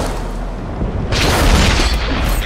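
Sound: tank shell hitting the turret in World of Tanks video game

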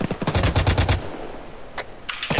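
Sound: gunfire in a video game

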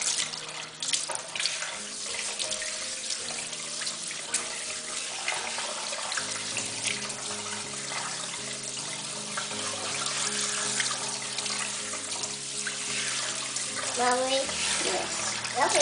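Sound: water rinsing shampoo out of toddler's hair

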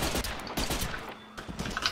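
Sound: gunfire in the video game Mortyr IV

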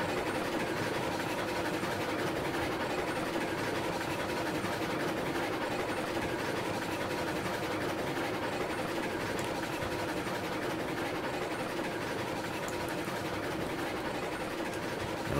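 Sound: steam locomotive chuffing under load, video game RailRoads Online

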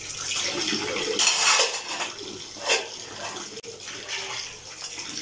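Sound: washing dishes

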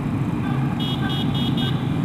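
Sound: small horn beeping

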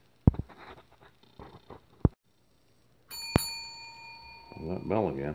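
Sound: bell ringing

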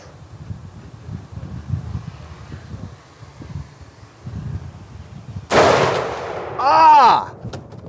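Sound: rifle with scope fired at a hog

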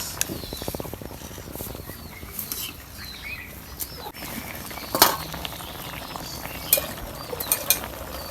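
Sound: magur catfish curry being sautéed in a pan

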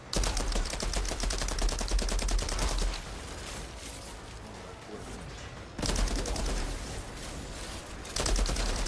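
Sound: submachine gun fire in the video game Outriders

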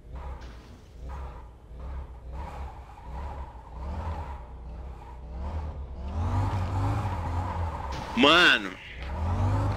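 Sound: car drifting in Car Parking Multiplayer video game

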